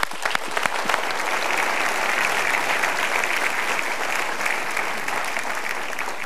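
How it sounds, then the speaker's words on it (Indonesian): Sustained audience applause at a televised motivational talk show, dense and steady with many hands clapping throughout, no talk over it. "Kita berikan tepuk tangan kepada mereka."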